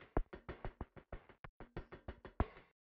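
Auxiliary percussion through a low-pass filter: a steady run of muted knock-like hits, about five per second, dull and rounded with the highs removed, close and alone with no voices.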